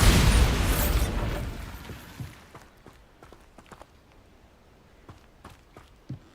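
A Bombarda spell explosion in the Hogwarts Legacy video game: a loud, broad blast right at the start that rumbles and fades over about two seconds, followed by scattered light footsteps and small pops.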